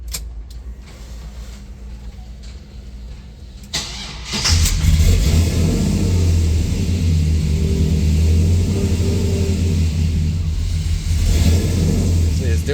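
An LS-swapped Impala engine cranks briefly, catches and fires, then settles into a loud, close, steady running note that rises and falls in a mild surge, with a few voices talking in the background.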